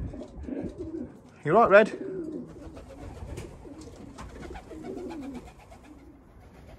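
Training pigeons coo in a short, loud burst nearby, with fainter soft calls and outdoor ambience around it; someone speaks briefly over the birds.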